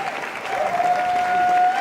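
Audience applauding a discussion panel at a live festival-of-ideas event, steady dense clapping from a large crowd holding at an even, loud level throughout, with a faint sustained tone running under it.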